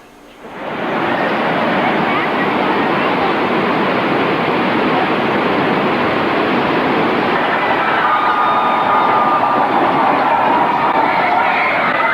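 A loud, steady rushing roar like a train ride, constant and broadband for the whole stretch, with faint squeals near the end.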